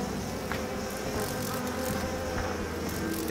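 A locust swarm in the video game Outlast 2 gives a dense, steady, close insect buzz that fills the whole stretch without a break.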